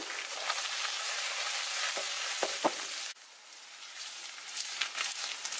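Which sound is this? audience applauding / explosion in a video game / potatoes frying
potatoes frying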